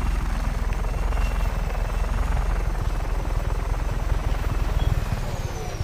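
A helicopter in Just Cause 3 flies and comes in to land, its loud, close rotor chopping steadily the whole time, with no other sounds.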